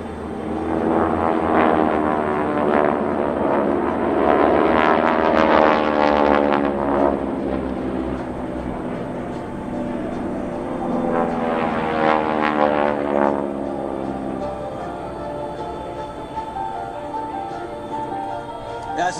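Vintage propeller planes of the Geico Skytypers fly in formation at an air show in New York, their engines swelling twice into loud droning passes and fading between them, with an announcer's voice heard over the noise.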